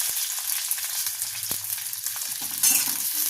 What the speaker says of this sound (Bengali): এটা হালকা ফ্রাই করে এবার আমি পেঁয়াজটা দিয়ে দিচ্ছি